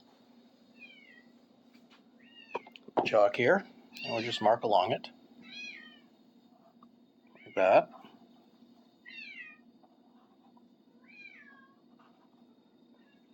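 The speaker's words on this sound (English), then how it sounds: "You can hear the cats crying in the background." Cats cry and meow in the background of a room where fabric is being cut, several drawn-out wails in a cluster and then a lone later cry, while a person talks over a steady hum.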